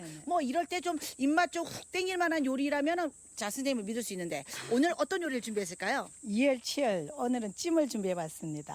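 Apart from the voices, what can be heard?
cicadas chirping in summer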